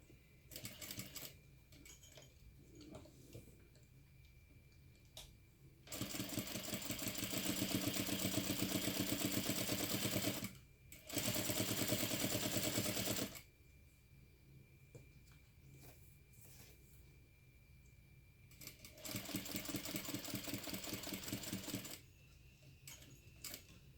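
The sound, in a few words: sewing machine stitching around fabric rectangle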